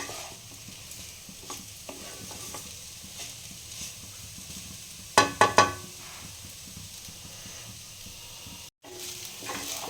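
Moist flattened rice (poha) stirred and fried in a pan, with a soft continuous sizzle and low scraping of the spoon, plus a brief cluster of sharper clatters midway and a short dropout near the end.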